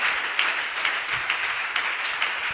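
A church congregation claps and applauds for the Lord, a steady mass of hand claps with irregular louder bursts, moderately close and without clear speech.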